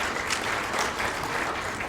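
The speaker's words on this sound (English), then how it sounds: "Can we clap for them?" A crowd applauding steadily, dense clapping throughout with no pauses, fairly loud and close.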